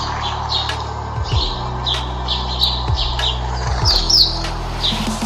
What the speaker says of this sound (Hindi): This is a sparrow.